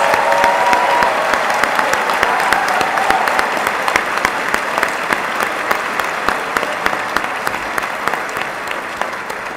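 Sustained applause from a large audience at a pre-commencement ceremony for 2015 full-time MBA program winners, a loud, dense wash of clapping with distinct individual claps standing out and slowly tapering.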